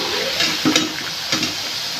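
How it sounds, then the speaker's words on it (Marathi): Small thin slices of coriander vadi (kothimbir vadi) shallow-frying in hot oil, giving a steady, close sizzle with a couple of brief crackling surges, continuous throughout with no voices. "आता हे मी फ्राय करून घेणार."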